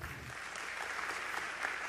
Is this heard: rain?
no